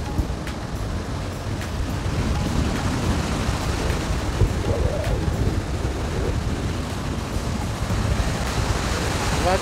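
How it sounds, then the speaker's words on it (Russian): Rough, continuous roar of stormy Baltic Sea surf breaking on the shore at Zelenogradsk, with gusting wind buffeting the microphone throughout; no voices. "Бушующее море, наша Балтика сегодня разбушевалась"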